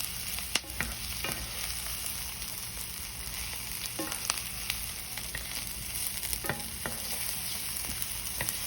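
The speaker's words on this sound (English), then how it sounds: "you just gonna let that cook, but you want to keep it stirred" Garlic frying in a pan with a steady, fairly quiet sizzle, broken by repeated clicks and scrapes of a spoon stirring it, close up and without talking.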